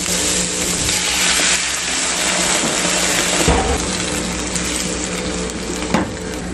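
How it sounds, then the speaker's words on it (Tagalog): Half a glass of water is poured into a hot cooking pot of squash and green chili peppers, making a steady, fairly loud hissing rush with a couple of brief bumps and no talking. "lagyan natin ng kalahating basong tubig"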